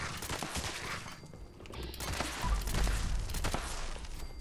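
Anti-armor explosive assault rifle firing in Fallout 76, a rapid string of moderately loud shots with explosive rounds, dense and continuous with a heavier low thump in the middle of the burst.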